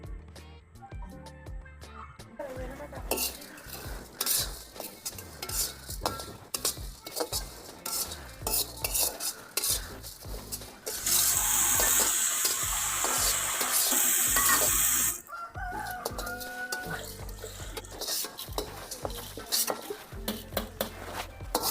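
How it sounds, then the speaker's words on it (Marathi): Cloves, black pepper and ajwain dry-roasting in a pan without oil, rapid repeated scraping and clinking of a spatula with light crackle, plus a stretch of louder hissing in the middle, close and continuous without speech. "लवंगा टाकलेल्या आहेत काळी मिरी आणि ओवा हे एकत्र भाजून घ्यायचं आहे"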